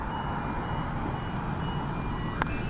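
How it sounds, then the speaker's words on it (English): Electronic warning alarm sounds as a business gate opens outdoors, a faint steady tone behind broad background noise, no talking. "The alarm you hear is the gate opening for the business behind me."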